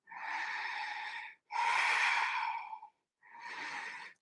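During yoga, three slow, deep breaths pass through the nose: a long inhale, a fuller exhale, then another inhale, close and clear with short silent gaps between.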